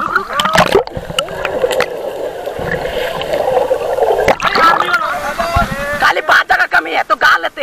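Water splashing and sloshing heard underwater beneath Dassam Falls, a loud, continuous churning rush broken by bursts of bubbling turbulence, with brief muffled voices above the surface.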